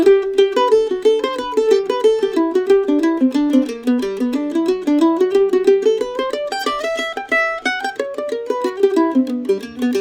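A solo mandolin plays the fiddle tune Big Scioto, the melody with improvised measures, in quick, bright plucked notes at an even, lively pace, close and clear with nothing else heard.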